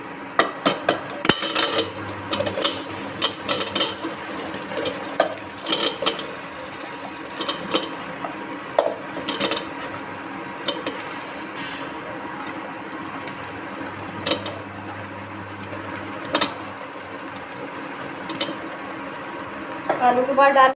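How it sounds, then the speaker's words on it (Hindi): Potatoes tumble into a pan for a potato, carrot and pea curry, then scrape and clatter under a spatula in repeated metallic knocks, with a person talking throughout. "अब हम इसमें डालेंगे अपने आलू।"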